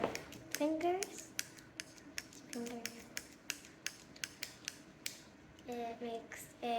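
Sharp clicks from a small switch on a plastic fidget cube pressed by fingers, repeating in a steady series of crisp, close taps with a brief voice between them.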